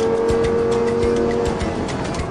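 Lamborghini Gallardo lapping the Castle Combe race circuit, with a loud, steady engine roar held close throughout and faint tyre noise beneath it.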